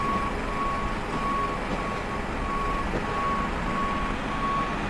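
An airport bus in a flight simulator video game, arriving at a cargo plane after landing, sounds a steady series of evenly spaced, high reversing beeps over a constant low engine and ambient hum.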